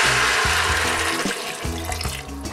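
Water pours loudly into a hot pot of black beans to deglaze it, hissing and sputtering close up with an uneven rumble, with no one talking.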